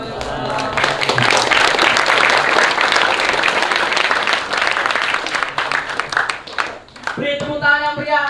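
An audience claps steadily for a school speech contest finalist, a thick burst of applause lasting about seven seconds before it thins out and music with a voice takes over.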